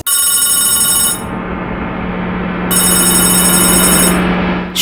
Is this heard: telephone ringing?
yes